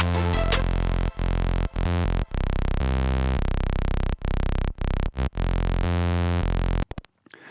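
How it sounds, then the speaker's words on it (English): A Serum synthesizer playing its default sawtooth wave, with buzzy, harmonically rich sustained notes in a MIDI sequence broken by short gaps, loud and alone, ending abruptly around seven seconds. "It's currently just the default sawtooth wave"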